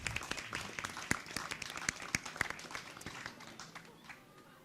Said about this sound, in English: Let's all give a big round of applause for our panellists today